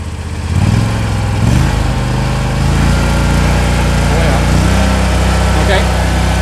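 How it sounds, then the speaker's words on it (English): A commercial zero-turn mower engine runs up to full throttle, a steady loud close drone that rises at the start and then holds, with a brief voice near the beginning. "go ahead and crank the throttle all the way up"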